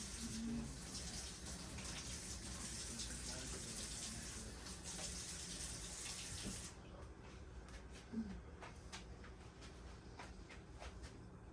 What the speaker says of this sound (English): Wash up your spoon.